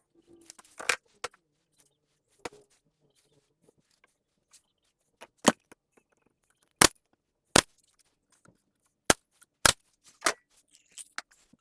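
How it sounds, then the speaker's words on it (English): A wood piece is nailed in during a camper build, with sharp, isolated hammer strikes spaced irregularly, some loud and close, between faint small knocks in an otherwise quiet space with no talk. "then we'll just nail this piece in just like that"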